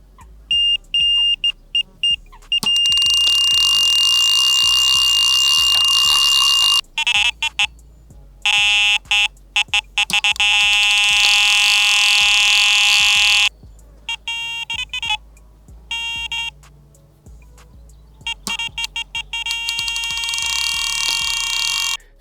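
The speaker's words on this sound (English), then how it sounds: "have a sample of some of the sounds that might come from these alarms" Electronic tones from a Wolf Icon Q fishing bite alarm, a run of loud sustained beeps and rapid bleeping bursts that change pitch and pattern, sounding alone with short silent gaps between sequences.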